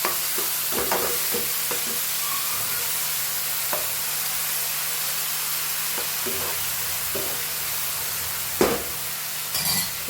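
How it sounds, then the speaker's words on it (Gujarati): Chopped onion and tomato with asafoetida sautéing in a pan, a constant sizzle close by, broken by scattered scraping and stirring knocks and a couple of sharper clatters near the end, with no talking. "હિંગ, ચોપિંગ કરેલા ડુંગળી અને ટામેટા. મસ્ત સોતે કરી લઈશું 5 મિનિટ."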